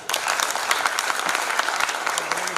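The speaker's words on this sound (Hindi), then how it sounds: "बाहर से आए हुए अतिथि कवियों के लिए जोरदार तालियां" An audience at a poetry gathering gives guest poets loud, sustained applause, a dense crowd of hands clapping steadily and close for a few seconds with no talking over it.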